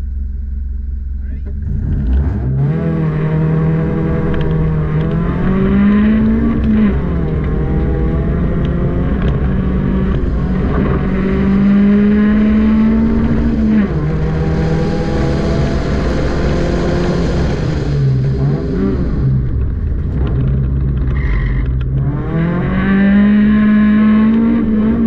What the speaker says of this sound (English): this car hooks up and goes